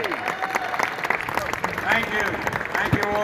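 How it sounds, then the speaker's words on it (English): Applause rises from the audience at a post-fight boxing press conference honoring a new heavyweight champion, brisk and fairly close, with voices talking over it. "Round of applause for the new heavyweight champion"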